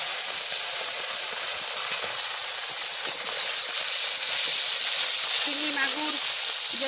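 Whole fish sizzles and spits in hot oil in a wok, a continuous bright hiss with small crackles close by, and a voice speaks briefly near the end.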